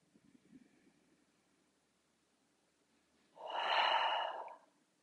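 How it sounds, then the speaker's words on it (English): A slow, soft breath drawn in through the nose during a yoga rest pose, then a clear, close exhale like a sigh that swells and fades over about a second, with near silence around it. "inhale through your nose. Exhale, sigh your breath away."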